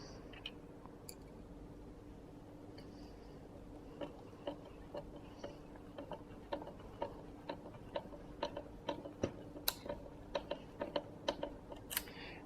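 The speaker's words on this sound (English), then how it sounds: "So I'm just going to screw that one in here." Small metal ticks and clicks from a brass connector being screwed into an F12E transmitter, starting sparse and growing into a quicker run of close, faint taps over low background hum.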